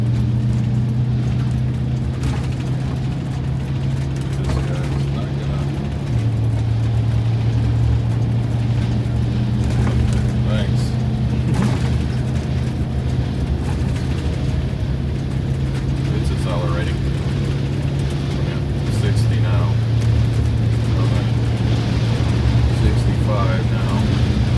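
A Wanderlodge RV bus with a rebuilt 8V92TA diesel accelerates uphill on an interstate, its engine droning steadily with pitch steps at gear changes, while people talk over it.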